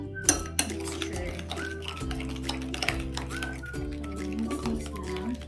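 Fruit and vegetable salad being mixed in a bowl, with repeated clinks and scrapes of a utensil against the dish in an uneven rhythm, close and fairly clear.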